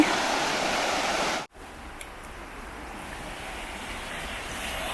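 Continuous rushing stream water in Karuizawa, Japan, pours steadily, briefly cut off for a moment before resuming a little softer, with no voices.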